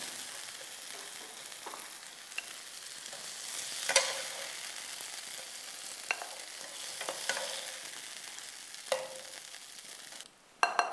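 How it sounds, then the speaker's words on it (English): Lamb chops searing in a hot pan give a steady close sizzle and crackle, with occasional sharp pops and clinks of utensils, ending in a few louder knocks. "I need to sear these, the lamb chops."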